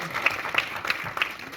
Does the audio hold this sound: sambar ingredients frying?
no